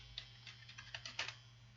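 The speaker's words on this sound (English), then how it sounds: "you're gonna have to type in your password now." Quiet taps on a computer keyboard as a password is typed, about eight or nine light key clicks in an uneven rhythm over a low steady hum, with no talking.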